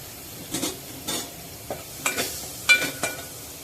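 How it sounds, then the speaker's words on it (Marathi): Prawns are stirred in a hot spiced tempering, giving a few distinct scraping stirs over a soft sizzle. The sound is close and quiet, with no voices. "एकाद मिनिटभर कोलंबी परतून घ्यायची आहे"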